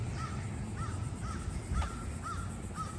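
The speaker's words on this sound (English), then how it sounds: "Oh, there's a lot of crows around." Several crows caw repeatedly around a lakefront campground in Charleston, South Carolina, with short evenly spaced calls at a moderate distance over a low outdoor rumble.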